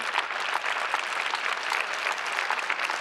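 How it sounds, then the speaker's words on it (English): Audience at a leadership summit applauds steadily, a dense wash of many hands clapping at moderate distance, fairly soft and even throughout without voices. "Let's give him a round of applause."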